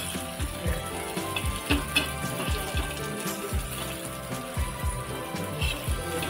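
Bitter gourd slices fry in a pan with a soft, continuous sizzle, broken by repeated low thumps and scraping as the pieces are turned, heard up close.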